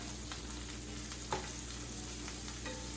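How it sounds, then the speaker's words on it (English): Onions frying in a pan for a lasagna sauce give a steady, even sizzle with a faint brief clink partway through, no talking. "So we'll let these onions get rolling around a little bit."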